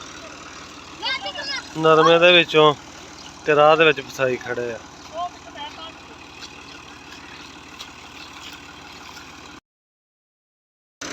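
A large Fiat tractor's engine idles as a low, steady rumble on a rain-soaked farm track beside a cotton field, running beneath several bursts of nearby talk before cutting to silence near the end.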